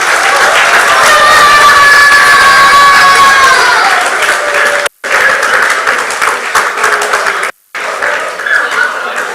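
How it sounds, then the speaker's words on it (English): Audience applause for coaches at a 2021-2022 awards ceremony, a loud steady wash of clapping that runs throughout, with two brief breaks and a faint tonal hum in the background. "And again, a very big round of applause to the coaches."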